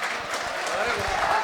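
Brief burst of clapping from a school audience at a Hindi poetry recitation event, fairly dense and steady, with a voice briefly audible over it.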